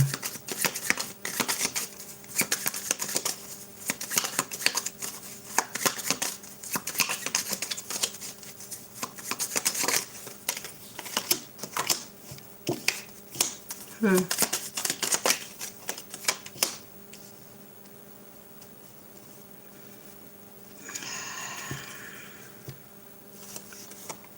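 Tarot cards being shuffled make a steady run of crisp flicks, riffles and taps up close for about seventeen seconds, then things go quiet apart from a faint, brief sound near the end.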